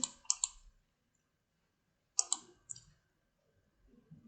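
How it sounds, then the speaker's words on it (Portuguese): Computer mouse clicks while working in the Scratch programming environment: a few crisp double clicks near the start, another cluster after a pause of silence, close and clear with faint room noise. "toda vez que eu clicar na bandeirinha verde"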